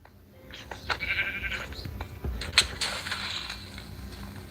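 A sheep in the Minecraft video game bleats in short, wavering calls near the start and middle, with faint game creaks and clicks around it.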